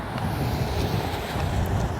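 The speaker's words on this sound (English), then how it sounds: "I'm sorry this wind blowing, y'all, but I don't know how well y'all can hear me" Steady wind buffeting a microphone outdoors, a continuous low rumbling roar that fills the whole stretch without a break.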